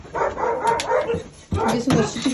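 A litter of young puppies barks and whimpers in short, high yips close by, mixed with people speaking softly over them.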